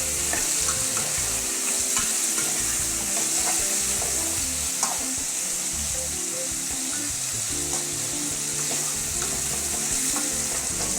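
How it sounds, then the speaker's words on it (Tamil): Eggplant sautéing in oil for a spicy salted-fish brinjal curry, a strong steady sizzle with rhythmic stirring and scraping in the pan, heard close and alone without talk. "கத்திரிக்காய் வதங்கினது எப்படி தெரியும்னா, அந்த வதங்கின அந்த காயினோட மேலே இருக்கிற வைலட் தோல் ப்ளூ கலர் மாதிரி மாறிடும்."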